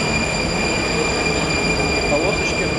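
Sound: Prague metro train riding on line C

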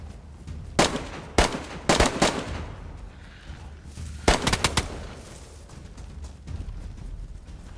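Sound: gunshots, video game DayZ

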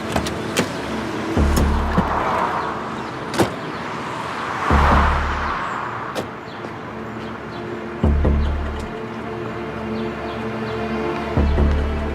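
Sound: car driving and stopping

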